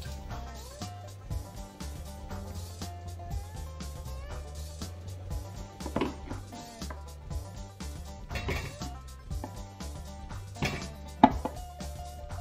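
Potatoes for homemade chips are sliced with a knife, giving a close, irregular series of knife knocks on a board, with occasional dish and cutlery clinks and no talking.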